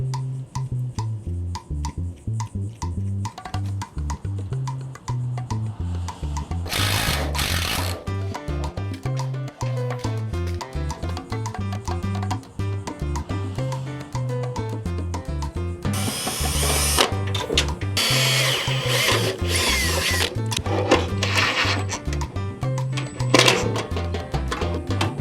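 A power drill driving self-tapping screws to secure fuel lines in a workshop, with repeated whirring bursts and sharp spikes as screws bite, mixed with background music.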